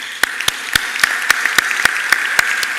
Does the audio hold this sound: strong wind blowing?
no